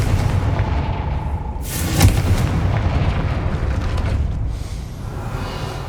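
Confringo fire spell cast in Hogwarts Legacy, a single sharp booming blast about two seconds in over a dense, continuous rumbling game soundscape.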